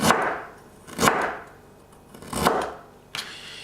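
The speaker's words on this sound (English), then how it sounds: "some lovely ginger root and slice it thusly" A knife slices through ginger root on a cutting board in four distinct strokes. Each is a crisp, close chop spaced about a second apart, with no talking.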